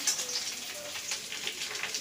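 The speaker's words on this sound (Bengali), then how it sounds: "আলুগুলো পেঁয়াজগুলো ভাজা হয়ে গেছে ভালো করে, ভাজছে" Potatoes and onions frying in a pan give a steady, close sizzling crackle with a soft hiss, with no voices over it.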